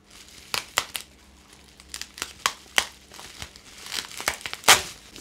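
Plastic wrapping and bubble wrap around an NHK R1 single-visor helmet are pulled open, giving loud, close, irregular crinkling and crackling bursts across the whole stretch, with no talking.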